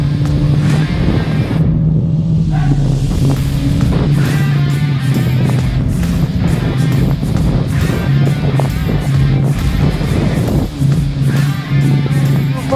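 A Hero Karizma XMR motorcycle engine runs steadily while riding, a loud continuous drone with wind rush over the microphone and shifting engine pitch throughout.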